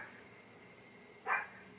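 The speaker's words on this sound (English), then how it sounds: "My dog barks so loud." A single short dog bark sounds once from a distance, a moderately loud yelp rising above a quiet, steady background hiss.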